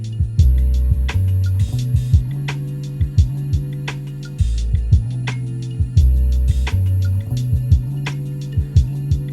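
Drum beat programmed on an MPC with the kick lowered in the mix: a steady looping groove of soft thumping kicks, crisp snares and ticking hi-hats, loud and close, with no talk over it.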